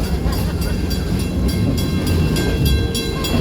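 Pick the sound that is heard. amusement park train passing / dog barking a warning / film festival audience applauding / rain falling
amusement park train passing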